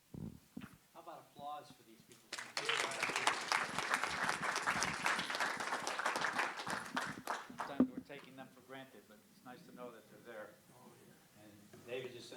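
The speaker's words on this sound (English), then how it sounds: "How about applause for these people?" An audience claps for presenters after a talk, a burst of applause rising suddenly and holding for about five seconds before fading under a man's speech, with talking before and after.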